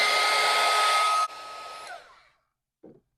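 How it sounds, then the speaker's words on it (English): A heat gun blows loudly up close to dry floating glaze on a ceramic bee bath, a steady roaring whoosh that drops in level, then cuts off and winds down, followed by a short faint knock. "if you want to make it dry a little bit quicker, just get yourself a heat gun"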